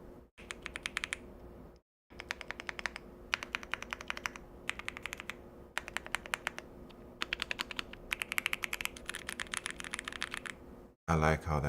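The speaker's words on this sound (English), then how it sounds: "I have this Bubble 75. It's my favorite keyboard right now" Typing on a Bubble 75 mechanical keyboard, close and crisp, in quick bursts of clacky keystrokes separated by short pauses, with a brief silent gap early on and a moment of other sound at the end.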